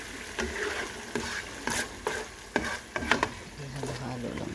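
A spoon stirs food in a pan over quiet sizzling, with a series of sharp scraping knocks against the pan at an irregular pace.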